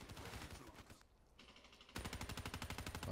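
Rapid automatic gunfire in Call of Duty: Black Ops 3 Team Deathmatch, a loud close burst of evenly spaced shots that pauses for about a second and then resumes as a fast steady stream.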